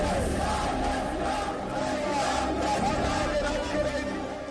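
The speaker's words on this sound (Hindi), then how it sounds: "बंगाल में चुनाव प्रचार में भीड़ ही भीड़ है" A large crowd at an election campaign rally in Bengal roars and cheers continuously, a dense mass of voices holding loud throughout.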